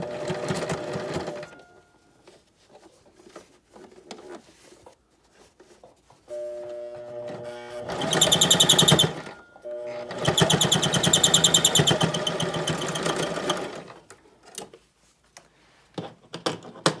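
A sewing machine stitches a face mask made with hair binders in two loud, steady runs of rapid needle chatter, with quieter handling sounds before and after.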